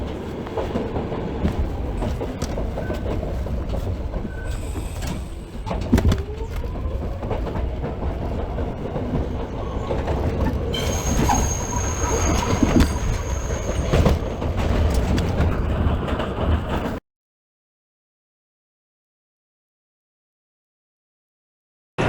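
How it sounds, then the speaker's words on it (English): A subway train rolls into the lower level of Nevins St station with a loud, steady rumble, rhythmic wheel clatter and occasional high squeals, before the sound cuts to silence. "the train continues into Nevins"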